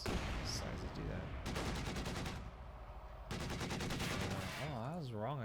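Machine gun fire in Company of Heroes 2 battle, two long rapid bursts of evenly spaced shots separated by a short pause, followed by a wavering siren-like tone, heard fairly faint.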